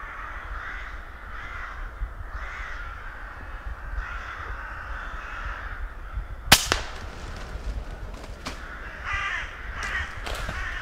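Crows caw repeatedly at a dusk roost, several calls in a steady rhythm at moderate distance, followed by a sharp crack and scattered louder caws over faint outdoor ambience.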